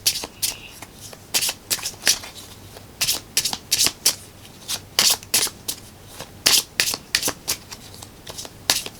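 Tarot cards being shuffled by hand in a steady run of crisp riffling bursts, close and fairly quiet, with no talking.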